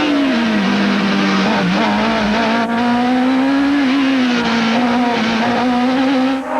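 Toyota Atlantic open-wheel race cars at the 1991 Long Beach street race, engines screaming loud and steady at high revs throughout, pitch shifting slightly as cars pass, with brief tire-squeal hints and no talk.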